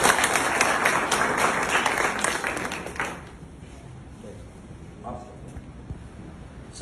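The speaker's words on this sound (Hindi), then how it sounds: "जोरदार तालियां एक बार।" Loud audience applause at an outdoor village gathering in India, dense clapping for about three seconds and then fading into quieter scattered claps and background noise.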